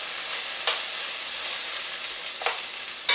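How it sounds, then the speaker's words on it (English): Okra sizzles and browns in a hot pan for a homemade gumbo, a steady close frying hiss with a few faint stirring clicks and no talking. "You can see the okra is browning up."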